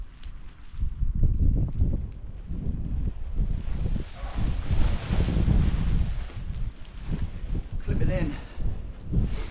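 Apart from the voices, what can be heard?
strong wind blowing while packing a tent outdoors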